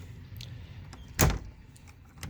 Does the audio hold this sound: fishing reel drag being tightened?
no